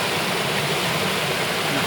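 A mountain stream flows through páramo near Bogotá, Colombia, producing a steady, close, continuous rush of water with an even hiss and no voices.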